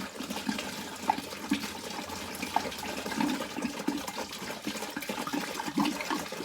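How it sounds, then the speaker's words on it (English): Marshmallow and chocolate mead pouring out of a container in rapid gurgling glugs, a wet bubbling flow with irregular pulses, fairly close and steady throughout. "Now, it's going to glug quite rapidly, I think."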